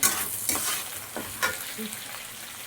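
Capsicum and shredded cooked chicken frying in a pan for egg chicken pasta, a steady loud sizzle with a few scraping stirs, close up and no talking.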